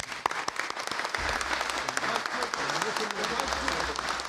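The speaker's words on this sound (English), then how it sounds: "Let's give them a round of applause." A crowd claps at a ceremony launching 110 mph passenger rail service between St. Louis and Chicago, with sharp, dense applause building after a brief start and continuing steadily while a voice talks over it.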